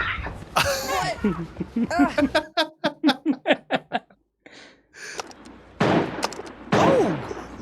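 Rapid bursts of arcade shooting-game gunfire ring out in a quick series of sharp, evenly spaced shots, with people talking and reacting around them, followed by louder electronic game noise.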